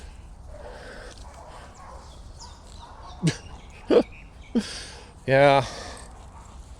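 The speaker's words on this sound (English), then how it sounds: "those not very nice dogs are going off again." Reactive dogs going off nearby outdoors give a few short, sharp barks spaced a second or so apart, then a louder longer bark, over quiet background with a brief spoken word.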